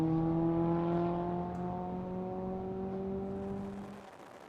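A Lotus race car driving, likely on a track, with a steady engine drone that holds its pitch for a few seconds, then eases and fades toward the end; fairly close and alone, with no voices.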